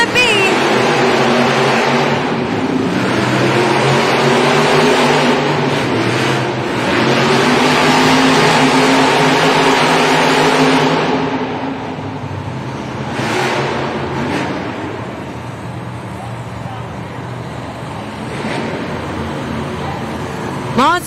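Monster truck engines revving at a Monster Jam racing event in Rosemont, IL, including the truck Terminal Velocity, loud and sustained over a roaring arena crowd, with an announcer's voice talking over it.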